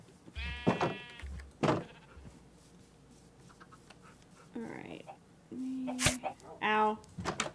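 Sheep in the video game Minecraft bleat in a handful of separate, wavering cries spaced across several seconds, close and fairly loud, with quiet gaps between them.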